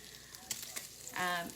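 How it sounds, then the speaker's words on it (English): Pancetta sizzles in a hot pan as its fat renders for scrambled eggs, a short burst of close frying crackle with a few sharp pops and spits. "I'm making scrambled eggs with pancetta. So I'm rendering the fat."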